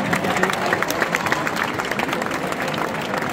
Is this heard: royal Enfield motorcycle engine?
no